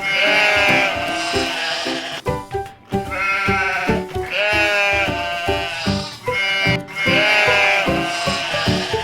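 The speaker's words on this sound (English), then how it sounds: "Now it's time to feed the adult sheep" Adult sheep on a farm bleat loudly and repeatedly at feeding time, several overlapping calls close by, broken by brief pauses.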